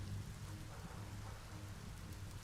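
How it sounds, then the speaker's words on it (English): Steady rain falling in the video game Biomutant, a constant soft hiss of drops filling the scene, no talk. "I love how it's raining at the same time."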